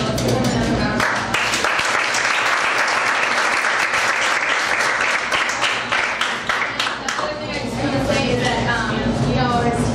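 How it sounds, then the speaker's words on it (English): Sustained crowd applause fills a talk-event room for the full stretch, dense and steady, with a voice faintly audible beneath the clapping. "let's give them another round of applause"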